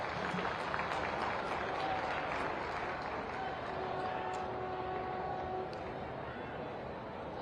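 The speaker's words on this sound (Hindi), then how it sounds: "आप सभी इस मौके पर, इस खास अवसर पर अपनी तालियां मंच तक प्रेषित करें।" Audience applause at a thinkers' conference in Mathura, steady dense clapping from a seated crowd filling the whole stretch at moderate distance, with a few faint voices mixed in.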